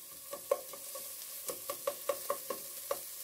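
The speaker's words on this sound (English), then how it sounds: "Give it a little quick stir here. It's just going to get those onions going." Onions stirred in a pot over medium-low heat for a dairy-free cheddar broccoli soup, with a run of light clinking spoon strikes over a soft sizzle, close and without talk.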